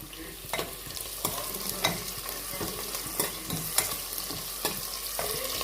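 Spice paste frying in a pan for a goat meat dish cooked without masala, a steady close sizzle broken by repeated sharp scraping stirs of a spoon against the pan.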